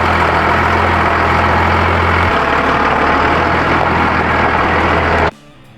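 A truck engine runs steadily during a four-wheel-drive test, a loud, dense low rumble that shifts pitch partway through and then cuts off abruptly near the end.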